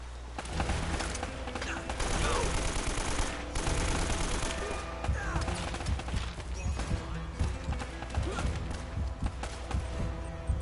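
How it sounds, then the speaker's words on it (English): Shotgun fire in the video game Uncharted: Drake's Fortune, loud repeated blasts mixed with dense game gunfire and action noise that continues throughout, close and busy. "I'm using a shotgun right now."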